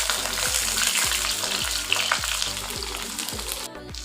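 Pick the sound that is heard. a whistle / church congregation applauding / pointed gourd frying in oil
pointed gourd frying in oil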